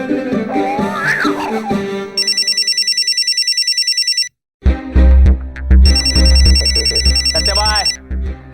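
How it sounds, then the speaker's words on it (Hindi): A telephone rings in two long bursts of rapid electronic trilling, separated by a short pause, with voices talking before and over the ringing in an indoor comedy scene. "सत्यभाई, भाभी का फोन आ रहा है।"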